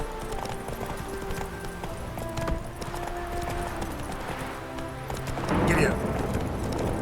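A horse gallops in The Witcher 3, a steady rhythmic clip-clop of hooves throughout, with a brief louder rush near the end, moderately loud.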